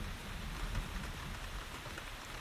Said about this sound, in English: just as the sky bursts open with rain